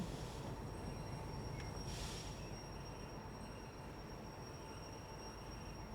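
Locomotive in Derail Valley rolling with a steady loud rumble of rail noise and wheel hiss, with brief squeals as the brake is applied.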